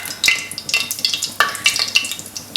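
Cumin seeds sizzle and crackle in hot oil in a pan for a chicken masala curry, giving close, steady frying hiss with frequent sharp pops and spits.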